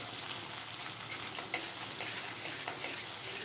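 Toor dal amti, a spicy Maharashtrian pigeon pea curry, being stirred in a pan while oil separates, giving a steady close sizzle with scattered light spoon scrapes and taps throughout.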